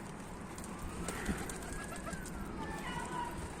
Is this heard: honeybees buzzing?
no